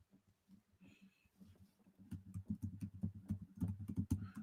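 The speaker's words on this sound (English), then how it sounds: "I'm typing." Someone types on a computer keyboard: after a quiet start with soft breathing, a busy run of close, crisp key clicks and taps fills the second half.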